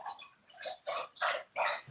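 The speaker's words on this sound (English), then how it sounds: "Listen to these dogs." Dogs bark in a series of four sharp, yappy bursts with short gaps between them, moderately faint and somewhat distant, with no talk over them.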